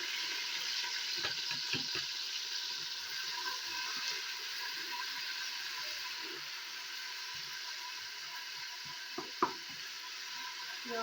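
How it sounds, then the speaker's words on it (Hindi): Onion and garlic fry in hot melted ghee for an aloo gobhi curry, a steady hissing sizzle throughout with occasional soft stirring taps and a couple of sharper clicks near the end. "तो अब हम इसमें प्याज और लहसुन डाल देंगे जो मैंने पहले आपको दिखाया है।"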